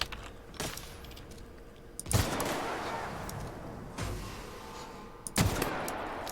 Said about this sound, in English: that's how this gun works